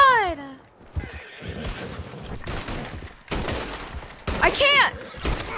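A horse in Red Dead Redemption 2 neighs loudly at the start and again near the end, between bursts of in-game gunfire and hoof clatter.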